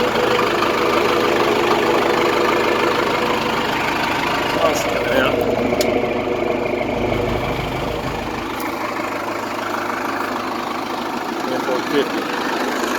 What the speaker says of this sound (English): Little 4BT Cummins turbocharged diesel engine.